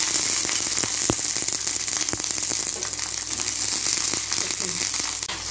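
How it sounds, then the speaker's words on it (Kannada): Green chillies fry in hot oil, a continuous crackling sizzle with sharp pops scattered throughout, close and fairly loud with no talking. "ಹಾಗೆ ಹಸಿಮೆಣ್ಸಿನ್ಕಾಯಿನೂ ಎಣ್ಣೆಲಿ ಫ್ರೈ ಮಾಡ್ಕೊಳ್ಳೋಣ"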